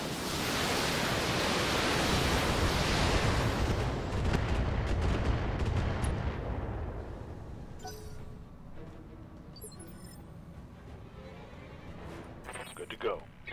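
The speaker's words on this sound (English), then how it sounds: "Firing all weapons." A BattleTech mech fires all its weapons, autocannons included, in a roaring wash of heavy gunfire and blasts that swells for several seconds and then fades out, with someone talking over it.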